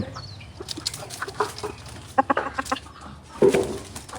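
Chickens, including a large hill chicken and chicks, cluck in short, scattered bursts close by, with a few louder calls toward the end amid a busy farmyard background.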